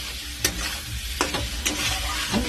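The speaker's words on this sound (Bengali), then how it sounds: "এরপর আমি লাল করে ভালো করে ভেজে নেব।" Chicken coated in sauce frying in a pan, a steady close sizzle broken by several scraping stirs of a spatula, with no talking.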